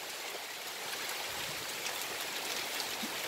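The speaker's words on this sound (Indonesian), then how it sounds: "Alhamdulillah hujan juga. Tanaman kita pisang itu bos, tuh kehujanan." Rain falling across an avocado and banana farm in Lampung, a steady dense hiss of drops on leaves and ground, continuous and even throughout.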